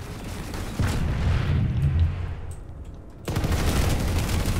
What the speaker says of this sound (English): I hear bullets going off. Or is that just someone shooting at me?